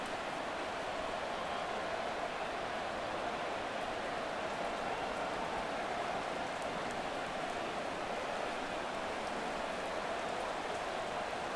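Steady rain falls on a Madden 24 football field, an even hiss of drops that holds constant throughout, with no other sounds rising above it.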